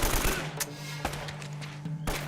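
Rapid bursts of gunfire from Uncharted: Drake's Fortune, with several sharp loud volleys separated by short gaps over a steady low hum of game audio.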